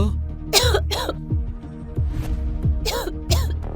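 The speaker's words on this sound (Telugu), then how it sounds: "ఆమె చలికి దగ్గుతుంది" A woman coughs from the cold in two pairs of sharp, close coughs, with a soft steady hum underneath.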